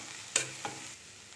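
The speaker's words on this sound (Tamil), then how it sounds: "இப்போது தேங்காய் ஆட் பண்ணி நல்லா மிக்ஸ் பண்ணிக்கலாம்" Coconut being stirred into cabbage poriyal frying in a pan, heard as a few brief scraping stirs over a soft sizzle, with no voices.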